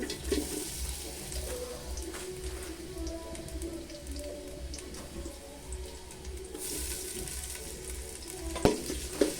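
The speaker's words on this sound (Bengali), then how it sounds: "পেঁয়াজটা ভালো করে ভেজে নেব" Chopped onion fries in oil over a clay stove on a veranda for a beef dish, a steady, dense crackling sizzle that holds throughout, with a few louder spatters near the end.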